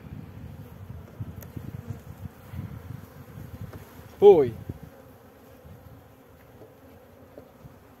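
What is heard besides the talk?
honey bees buzzing around a beehive frame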